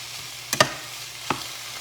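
Meat frying in a pan for a bacon cheeseburger tater tot casserole gives a steady, soft sizzling hiss, broken by two quick utensil scrapes and a third a moment later, close and with no talking.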